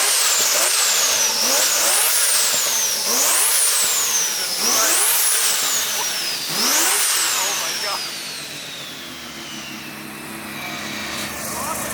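A built Mazda 20B three-rotor engine with twin Garrett turbos, loud and close, revving repeatedly in sharp rising-and-falling sweeps with a whistling turbo spool, then settling into a rough idle, heard in cold weather.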